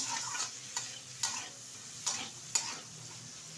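Khesari greens with peas and green chillies stir-fried in a pan: a quiet steady sizzle broken by sharp, regular scrapes of a spatula, about one every half second, heard close and alone.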